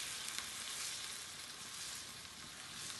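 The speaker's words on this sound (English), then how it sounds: "And just let that sizzle off for a second" Crab curry broth of stock and coconut cream sizzles steadily in a hot pan, a continuous close hiss and crackle with no talking.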